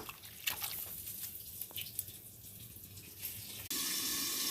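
Spinach being washed under a running kitchen sink tap: faint splashing and drips at first, then the faucet opens fully into a steady loud gush of water.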